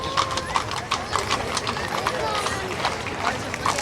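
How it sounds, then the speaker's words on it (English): Hooves of Percheron Hackney cross horses clip-clop steadily on pavement as they pull a Victorian carriage in an old-fashioned Christmas parade, a brisk overlapping rhythm with crowd chatter and a voice over a loudspeaker in the background. "The horses are Percheron Hackney crosses."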